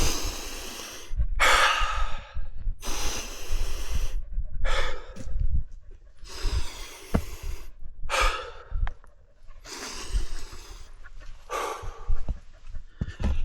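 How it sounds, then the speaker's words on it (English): Deep, heavy breaths taken during a rest stop while hiking uphill, a steady series of loud inhales and sighing exhales close to the mic, repeating roughly every second or two. "We can take some nice big deep breaths."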